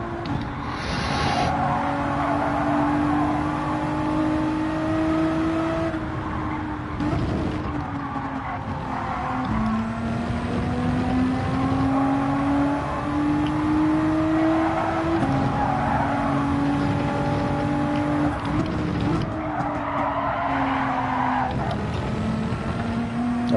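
A race car in Gran Turismo 7 revs hard through its gears, the engine note climbing and dropping with each throttle lift and shift, with some tyre noise, loud and steady throughout with no talk.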